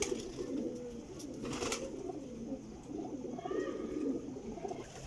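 A golden pigeon kept by a Jhelum pigeon fancier coos repeatedly at close range, soft low rolling calls running almost continuously, with a few sharp clicks and rustles in between.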